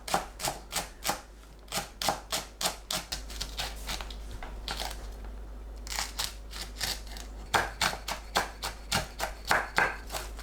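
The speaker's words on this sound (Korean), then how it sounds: "파, 청양고추를 작게 썰어줍니다." Green onions and Cheongyang chili peppers are chopped on a board with quick, crisp knife strokes in rhythmic bursts, followed by a brief pause and then more rapid chopping. The sound is close and there is no talk.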